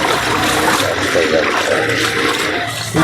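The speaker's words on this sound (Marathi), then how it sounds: "थोड्या पावसामध्येच एवढं पाणी झालंय." Water rushes and splashes loudly and steadily nearby, a continuous churning roar of heavy rain and flowing floodwater on a Mumbai street during the first monsoon rain, with no voices.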